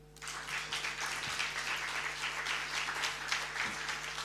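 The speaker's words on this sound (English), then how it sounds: "One more round of applause for Professor Margaret Kobia for your inspiring words." An audience applauds steadily after a speech at a celebration event, a dense, even wash of clapping heard at moderate distance and sustained throughout.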